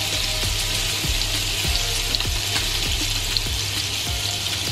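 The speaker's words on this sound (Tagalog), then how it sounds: "Parang ipiprito mo lang siya sandali." Pork embutido sizzles steadily in a hot pan, a bright continuous frying hiss with a low electrical hum and faint repeated ticks underneath, close and even throughout, with no talk.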